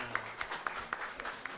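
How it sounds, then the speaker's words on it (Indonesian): Audience applause at a Maluku provincial election-oversight gathering, soft, sparse claps at a fairly regular rhythm, fairly distant and quiet. "bisa tepuk tangan ya."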